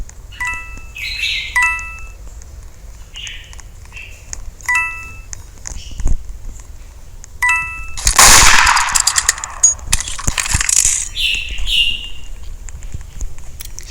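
In a Roblox game, guns fire in a loud, dense burst of rapid shots. Chirpy electronic tones and brief beeps come before and around the shots.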